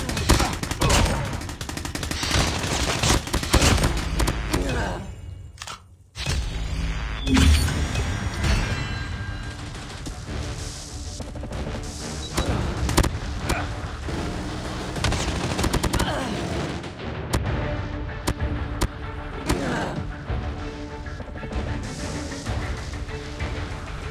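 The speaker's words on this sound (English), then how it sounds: "Friendly sentry gun deployed" Video game combat, with sustained automatic fire from a sentry gun and other weapons forming a dense, loud barrage that runs almost unbroken, broken by one brief drop before the shooting resumes.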